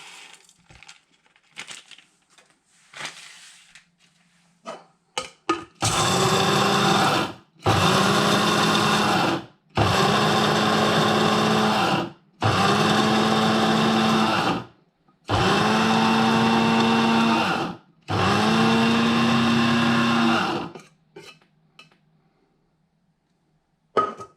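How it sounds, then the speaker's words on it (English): An electric grinder with a grinding bowl whirs through six loud bursts of several seconds each, separated by short pauses, as it grinds ingredients for a scented paste (skhab), with faint handling clicks before and after. "And just start some grinding."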